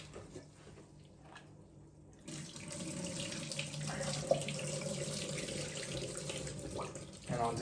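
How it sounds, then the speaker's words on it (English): Tap water runs into a sink as rice is rinsed, starting as a softer trickle and then swelling into a steady, fuller gush with faint clinks and sloshing near the end, with no talk. "I'm going to wash and rinse the rice."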